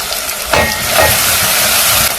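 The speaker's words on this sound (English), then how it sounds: "I'll mix it up and then I'll let my onions fry to golden brown." Chopped onion frying in oil in a pan during cooking, a steady broadband sizzle with a louder burst as the onion goes in and is stirred, close and continuous without talk.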